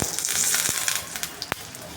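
Steady, busy sizzling and popping of mustard seeds frying in hot oil for a chutney tempering, close up, with a couple of sharper crackles standing out.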